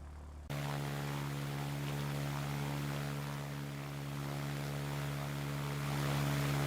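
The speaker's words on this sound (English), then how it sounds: "It's not much of a recon when your engine's that noisy" Propeller aircraft engine from the WW2 airfield-building video game Ground of Aces: a steady, loud droning hum with strong harmonic tones that starts abruptly after a half-second of quiet and holds evenly, swelling slightly near the end.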